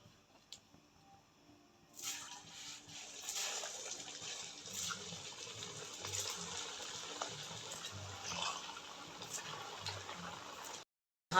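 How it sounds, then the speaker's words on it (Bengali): Semolina sweets dropped into hot oil set off a steady, hissing sizzle that starts suddenly after a quiet moment and keeps bubbling evenly close by, with no talking. "এবার আমি মিষ্টিগুলা ভাজে নিব।"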